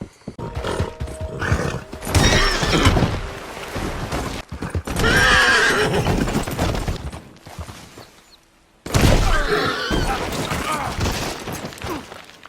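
Horses in the Red Dead Redemption 2 video game whinny and clop in loud bursts separated by short pauses, mixed with other game sounds.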